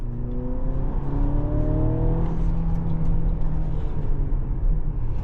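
A 2024 Mercedes-Benz GLC Coupe engine revs up, its pitch climbing steadily as it accelerates, then holds a loud, even drone; no voices.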